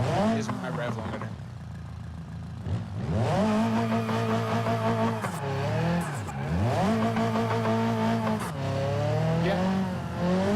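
A high-revving engine with an 18,000 RPM rev limiter screams loud and close, repeatedly climbing in pitch, bouncing off the limiter and dropping back before winding up again.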